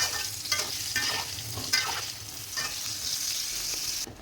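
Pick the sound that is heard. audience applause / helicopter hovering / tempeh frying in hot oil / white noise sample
tempeh frying in hot oil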